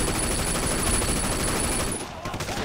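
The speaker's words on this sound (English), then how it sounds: "I'm just shooting off at nothing" Gunfire and a grenade blast in the Sleeping Dogs video game come as a loud, continuous burst of rapid shots and rumbling noise that thins out briefly near the end.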